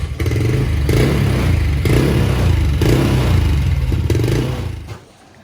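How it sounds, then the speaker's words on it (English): A Honda TRX 90 ATV engine runs just above idle, a loud, close, uneven putter with rhythmic surges roughly once a second before it drops away near the end. "It's not quite idling, but we're going to run it a little bit"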